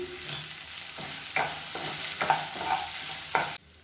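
Onions sauté with salt in a pan for a tomato-free chutney, a soft continuous sizzle with several distinct clanks of a spatula stirring, close by and alone, ending abruptly.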